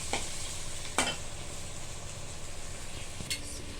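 Egg curry masala with curry leaves frying in a pan: a steady close sizzle runs throughout, with a few sharp scrapes of a spoon stirring against the pan.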